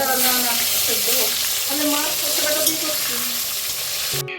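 Pointed gourd (potol) frying in a pan gives a steady, close, hissing sizzle that runs unbroken, then cuts off abruptly with a short clatter at the very end.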